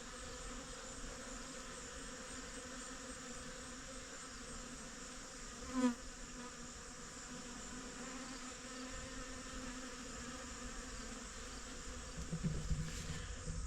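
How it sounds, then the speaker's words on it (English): Steady insect buzzing from bees fills the garden air throughout, a continuous low drone with a brief closer pass midway. "The bees are a buzz."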